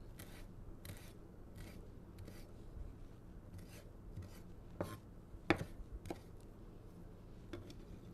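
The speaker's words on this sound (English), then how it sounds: "So I'll grab some parsley from the garden. I'll cut that up." Fresh garden parsley being cut with a knife on a board, a series of quiet, separate chopping and scraping strokes with short pauses between them, close and fairly soft, with no talking.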